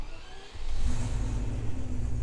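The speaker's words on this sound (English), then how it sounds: "that V8, that sounds very nice." A Turbo Technics Range Rover Classic V8 engine catches and settles into a deep, close, rumbling idle, steady and loud after a quieter opening moment.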